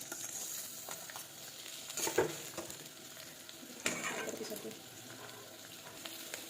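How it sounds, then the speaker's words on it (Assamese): Onions frying in oil in a wok, a quiet steady sizzle with two louder stirring scrapes, heard close but faint, with no talking. "এয়া মই এতিয়া প্ৰথমে পিঁয়াজখিনি অলপ ভাজি ল'ম।"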